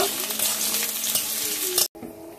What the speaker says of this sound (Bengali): এলাচ, পেঁয়াজ কুচি, পেঁয়াজটা কিছু সময় ভেজে নেব।